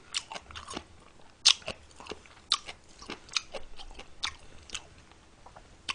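Crunchy radish kimchi is bitten and chewed up close, a steady run of sharp crisp crunches with a few louder snaps and no talking.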